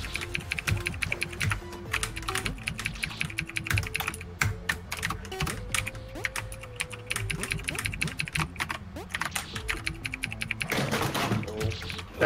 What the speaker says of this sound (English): Sorry, my keyboard just fell.